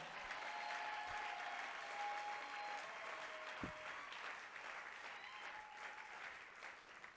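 A church congregation at a French-language Easter seminar applauds the Lord, sustained clapping that fills the room steadily from start to finish, with faint voices beneath it.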